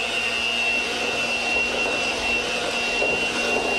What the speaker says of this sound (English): So right away at the contact, let's start on beating them.